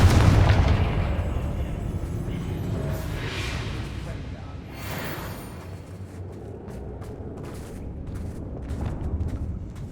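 Confringo fire spells in the Hogwarts Legacy video game produce repeated booming explosions and bursts amid continuous rumbling combat noise, with a voice speaking over it.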